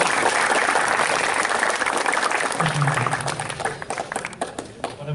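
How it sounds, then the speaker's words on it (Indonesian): An audience at a youth football coaching clinic applauds a coach with close, dense clapping that thins and fades out toward the end. "Kasih tepuk tangan dulu dong untuk Coach Indra Sapri."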